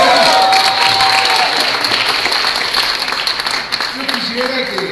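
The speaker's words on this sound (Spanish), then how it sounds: "Quisiera que esos aplausos sean para Dios, sean para Luis" Church congregation at a baptism service claps and cheers in a loud burst of applause, a crowd roar with scattered shouts that gradually thins, with voices speaking over it.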